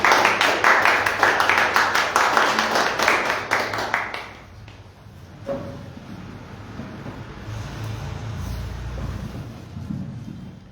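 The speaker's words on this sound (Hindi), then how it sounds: "आइए हम सब अपने पासवान का जोरदार तालियों के साथ स्वागत करेंगे।" A church congregation at a Sunday morning Hindi worship service claps loudly and steadily to welcome the pastor, the applause fading out into quiet room noise after about four seconds.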